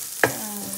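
Mustard seeds dropped into hot oil in a pan while making vegetable idly upma, giving one sharp burst of sizzling that settles into a steady, faint frying hiss, with no talk over it.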